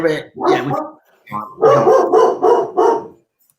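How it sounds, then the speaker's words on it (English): A dog barks repeatedly in a quick series of sharp woofs, fairly close, with a brief pause after the first couple before a steady run of barks. "I can hear barking."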